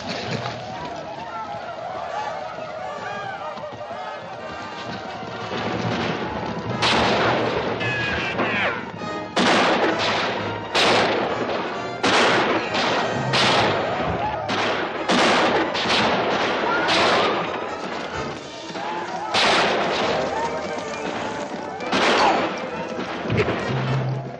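A war-film battle with gunfire and artillery: a rumbling barrage, then repeated sharp blasts and impacts at an irregular pace, loud and close, with shouted voices mixed in.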